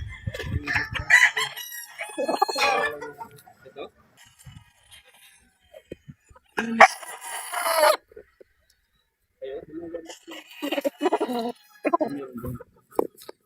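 Pure Gilmore and Pure Boston gamefowl roosters at a gamefarm crowing in several loud, ragged bursts with clucking between them, separated by quiet gaps, while someone talks in between.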